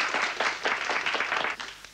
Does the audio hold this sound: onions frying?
no